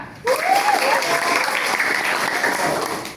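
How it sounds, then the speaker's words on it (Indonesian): Applause from a classroom audience during a training session on AI prompt engineering, steady clapping from a group that starts abruptly and continues evenly for several seconds, with a voice briefly rising at the start. "Terima kasih Mas Farhan, tepuk tangan ya."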